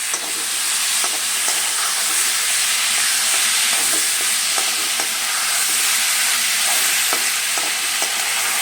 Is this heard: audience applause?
no